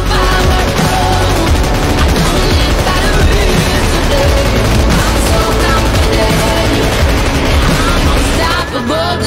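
Nonstop automatic gunfire in the PUBG video game, loud and dense, with rapid rattling shots running unbroken for over nine seconds and barely easing at the very end.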